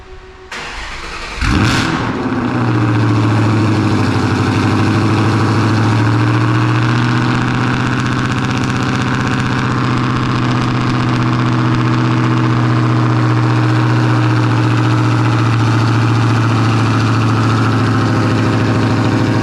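A very loud Ford Mustang cold-starts with a cranking burst, then settles into a deep, steady, throbbing idle. It stays close and loud, with no voices, for over fifteen seconds.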